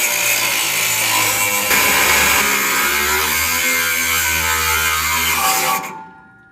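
A power tool cuts through the exhaust bolts and nuts of a car whose exhaust has fallen off, giving a loud, steady grinding whine for about six seconds that shifts pitch midway and then cuts out abruptly.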